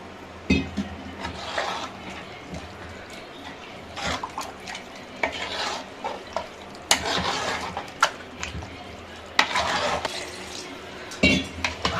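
Water being added to mutton curry in a cooking pan, with pouring and splashing alongside clinks of utensils against the pan, moderately loud and close, without speech.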